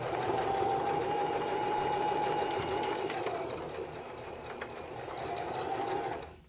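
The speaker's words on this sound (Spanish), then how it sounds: "unimos nuevamente con una puntada de zigzag" A sewing machine runs a zigzag stitch along a lace seam while making lace panties. Its steady, close, continuous whir holds for about six seconds, then cuts off at the end.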